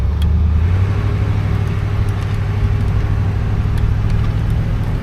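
Steady low rumble of a 1972 Buick LeSabre's engine while driving along, a constant droning hum with road noise that holds even throughout, no one talking.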